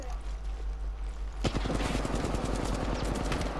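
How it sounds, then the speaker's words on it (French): Video game gunfire aimed at the player, a rapid automatic burst of close, loud shots rattling continuously after a sharp opening crack. "Genre, j'ai même pas d'arme et on me tire dessus comme ça, là."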